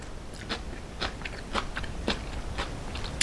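Crunchy seasoned cucumber salad being eaten close up, with about six crisp bites and crunching chews coming at a steady pace.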